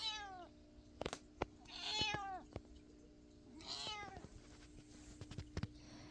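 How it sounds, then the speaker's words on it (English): An indoor pet cat gives several soft meows spread across a few seconds, with faint clicks and shuffling in a quiet room between the calls. "This is one of my cats."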